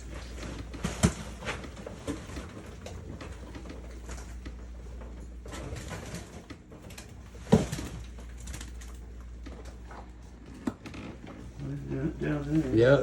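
Birds coo and call in a dark room at a parrot sanctuary, scattered throaty coos and sharp calls amid rustling, with a few sudden knocks and quiet voices in the background.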